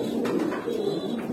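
A pair of black Baghdadi homer pigeons coo softly nearby in a few short repeated phrases over a low background hum.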